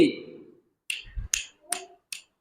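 Several crisp finger snaps ring out one after another at irregular intervals, close and fairly sharp. A brief bit of speech comes just before them.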